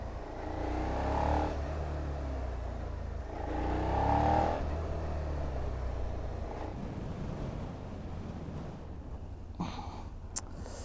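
A Suzuki SV650 X is ridden on the road while its brakes are warmed up, with engine drone and heavy wind rush swelling and fading in two surges, and the motor easing off toward the end.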